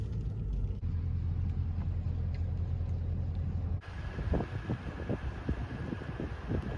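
Steady low rumbling wind buffets the microphone beside a lake in Colorado, with a brief shift partway through to a gustier, rougher roar.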